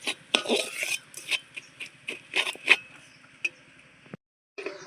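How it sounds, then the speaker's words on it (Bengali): Sugar caramelizing in a pan while a spoon stirs it, giving a series of close metallic scrapes and clinks in an irregular rhythm. The sounds end in a brief silence, then resume. "চিনিটা আমার ক্যারামেল হওয়া শুরু করে দিয়েছে তার জন্য আমি নাড়া শুরু করে দিলাম"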